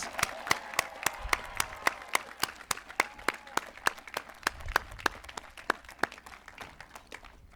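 Graduation audience clapping for parents and families, heard as a long run of evenly spaced, sharp individual claps that sit fairly close and steady over a faint background of scattered clapping.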